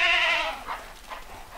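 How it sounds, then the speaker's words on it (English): A goat lets out a loud, wavering bleat close by while goats are herded into a chute for vaccination shots, followed by fainter shuffling and softer noises; no talk. "So let's get these goats all herded up in here in the chute"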